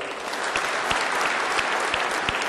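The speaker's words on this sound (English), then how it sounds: "hold your applause" Audience clapping at the Department of Sanitation swearing-in ceremony in New York, a full, even burst of many hands applauding together, sustained and fairly close, with no speech on top.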